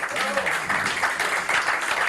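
An audience applauds a guest at an expedition presentation, a steady broadband wash of clapping filling the room, with a voice briefly heard at the start.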